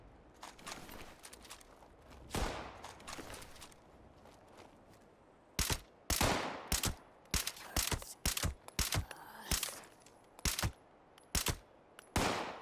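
Sharp gunshots from a Fallout 76 firefight ring out, a few scattered shots early and then a string of about a dozen punchy, evenly spaced cracks, loud and close against quiet game ambience.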